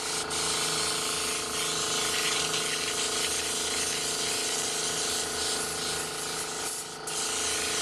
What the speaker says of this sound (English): What you hear right now is my compressor.